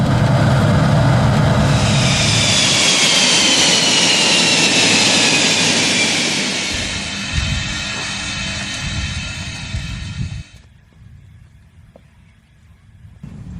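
An F-16 Block 50 fighter jet roars loudly after landing with its drag chute deployed, a broad steady jet rush with a whining high tone that gradually fades and then cuts off sharply, leaving a quieter low rumble.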